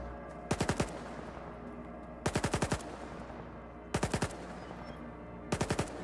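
An NPC fires at something in S.T.A.L.K.E.R. 2: Heart of Chornobyl, four separate short bursts of rapid automatic gunfire spaced a second or two apart, loud over a quiet ambient background.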